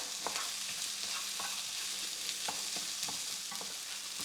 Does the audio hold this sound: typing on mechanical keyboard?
no